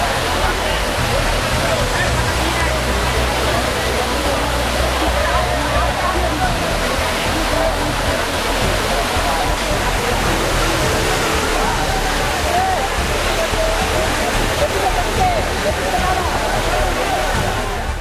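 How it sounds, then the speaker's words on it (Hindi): Floodwater roars through a breached embankment at Keoti near Darbhanga, a loud, unbroken rushing torrent heard up close, with voices beneath the water. "पानी का तेज बहाव अब नए इलाके में फैलने लगा है।"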